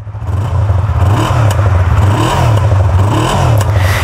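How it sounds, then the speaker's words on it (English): A 2023 Yamaha MT-03's 321cc parallel-twin engine with a 180-degree crank runs loud and close, with a steady throbbing idle that rises in repeated short revs, heard alone without talk. "It's a very humble little engine."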